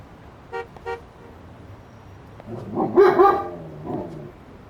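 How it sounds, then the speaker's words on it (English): A dog barks repeatedly in the video game Lost Judgment, two short yaps followed by a louder, closer burst of barking, over game background sound. "Sorry about that. That's a dog."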